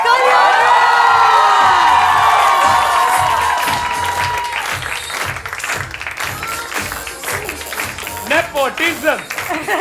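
A studio audience on a comedy game show cheers and applauds a contestant, a loud dense roar of clapping and whoops at the start that thins toward the end, with a voice talking over it.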